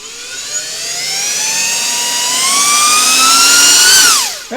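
A small Flywoo VTX cooling fan spins up from low to high speed, a rising whine with steady airflow hiss that builds loud over a few seconds, then winds down abruptly at the end.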